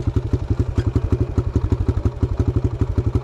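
A dirt bike engine running as it is ridden, a loud close thumping single-cylinder pulse with fast even firing beats and a clattery edge, no talk.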